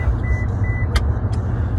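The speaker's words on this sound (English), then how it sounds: "I'm going to buckle up so this alarm doesn't drive you all crazy." A car's seatbelt warning chime sounds twice, in brief bright beeps about a third of a second apart over a steady low engine hum inside the vehicle.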